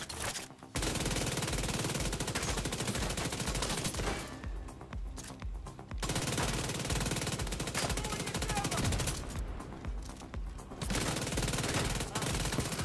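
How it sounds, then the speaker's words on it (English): SMG fire in the shooter game The Division 2, with long sustained automatic bursts broken by short pauses, loud and dense, with little or no talk over it. "let me switch to the SMG. So I'm on the SMG now"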